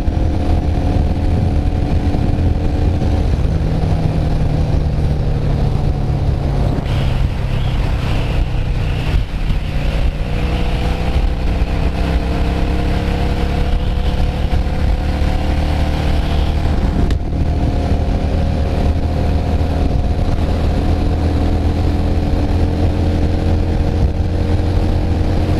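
Yamaha Drag Star 650 motorcycle from 2003 cruising at speed, a steady loud engine drone with shifting harmonic pitch and heavy wind rush running continuously throughout, no talk over it.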